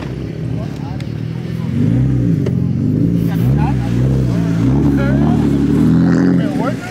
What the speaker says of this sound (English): I do a burnout.